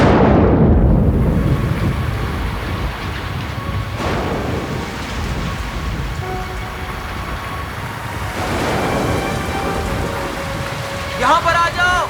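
Heavy steady rain pours close by with a deep rumble of thunder rolling underneath, loud and continuous throughout, with a brief higher tone near the end.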